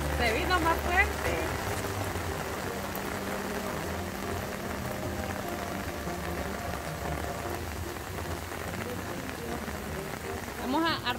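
Steady, dense rain pours down over a park in Juayúa with a constant hiss and patter, and voices speak faintly beneath the downpour.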